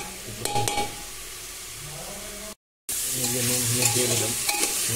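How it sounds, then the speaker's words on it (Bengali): Salt and turmeric frying in a pan give a steady sizzle with stirring scrapes, briefly cut to silence midway before the sizzle returns louder and brighter. "নুন হলুদ দিয়ে একটু ভেজে নেব"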